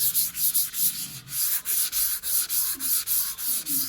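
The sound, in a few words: block sanding car body with 180 grit sandpaper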